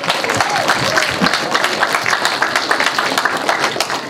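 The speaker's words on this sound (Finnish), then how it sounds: "aplodit." Audience applause at a celebrity fishing competition on Merikarvia river day in Finland, a steady burst of many hands clapping from a crowd outdoors, loud and continuous.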